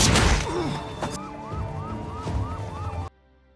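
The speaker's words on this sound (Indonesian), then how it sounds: "Terdengar suara sirine polisi dan helikopter yang mendekat ke lokasi mereka." A wailing police siren rising and falling in repeated cycles, loud and close, after a brief crash at the start; it cuts off abruptly near the end.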